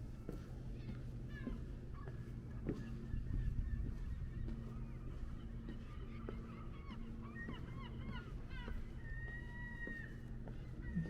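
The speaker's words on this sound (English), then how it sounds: "You hear all those seagulls right above me" Several seagulls call and squawk from nearby overhead along the Coney Island boardwalk in Brooklyn, their cries scattered across a steady outdoor rumble with faint voices in the background.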